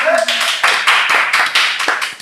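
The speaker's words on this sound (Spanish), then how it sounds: "Un aplauso," A studio audience applauds on a talk show, a dense, loud burst of clapping with cheers and voices mixed in throughout.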